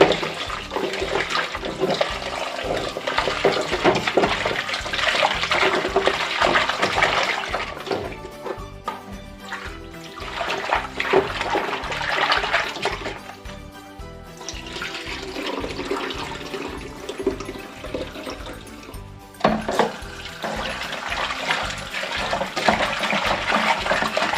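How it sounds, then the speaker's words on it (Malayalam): Water runs and splashes continuously as fresh fish are scrubbed and rinsed with salt under a flowing stream, a loud and close rushing sound with no speech. "അപ്പം മീൻ നമുക്ക് നല്ലപോലെ ഉപ്പിട്ടൊന്ന് കഴുകാം"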